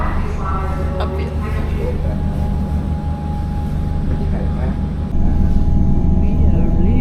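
Melbourne suburban train departing a station toward Upfield, a loud steady rumble and whine with a sustained tone, under a public announcement voice.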